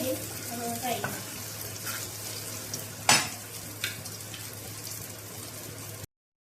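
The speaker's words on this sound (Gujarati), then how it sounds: "આપણે આવી રીતે મસ્ત શેકી લઈશું" Food roasting in a pan on a gas stove gives a soft, steady sizzle with occasional scraping and stirring clinks, one sharper metallic knock midway, and faint background sound.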